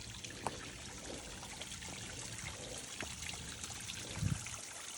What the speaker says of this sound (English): Here's a nice little waterfall feature along here.